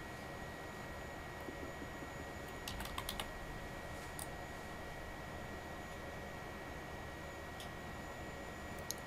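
Keys on a computer keyboard tap out a new folder name in short clusters, a few quick clicks in the middle and a couple more later, faint and close, over a steady background hiss.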